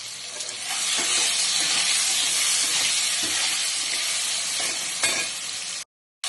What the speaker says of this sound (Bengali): আলুটা আমার মোটামুটি গোল্ডেন ব্রাউন করে ভাজা হয়ে গেছে